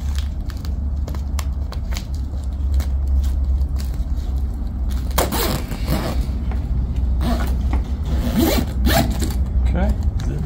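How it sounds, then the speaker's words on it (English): A zipper on a golf net enclosure for a Forester 4 Plus and Pro golf setup is zipped up in repeated, close scratchy pulls over a steady low hum. "zip that up right there"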